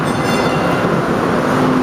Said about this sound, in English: That's Boston light rail.